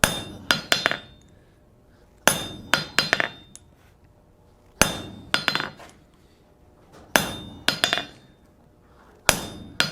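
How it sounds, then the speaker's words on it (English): Sharp metallic strikes of a soft face hammer on a hand-forged steel cold chisel ring out in quick clusters of three or four blows, separated by short pauses, close and clear with bright ringing tails. "where I've been hitting on it with a soft face hammer"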